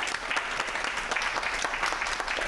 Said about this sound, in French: On applaudit pour Ibrahima Doucouré